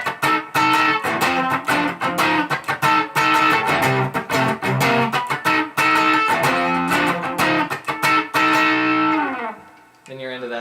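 Electric guitar with distortion playing the chorus riff of a song, a choppy run of loud, rhythmic chords and notes that stops abruptly near the end.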